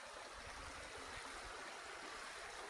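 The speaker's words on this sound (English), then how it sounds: "where the spring water comes down right here, exit right here to the stream" Spring water flows down into a mountain stream, a faint, continuous rushing and trickling murmur with no voices over it.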